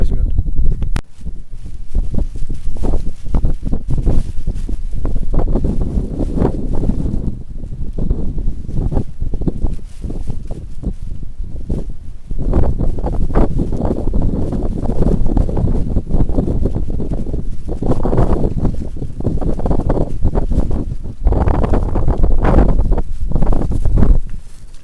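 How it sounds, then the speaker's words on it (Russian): Strong gusting wind buffets the microphone out on the frozen Volga during ice fishing, roaring in surges and lulls, with someone talking intermittently underneath. "Ветрище такой"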